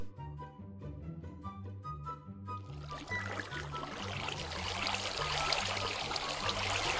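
Rushing, splashing water flowing and pouring in Minecraft, building from a light trickle into a steady loud stream over a repeating game music loop.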